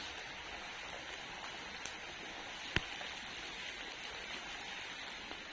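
Steady heavy rain at night in an area under an orange weather alert, a constant even hiss of falling water with a few faint drops and one sharp tick, no voices.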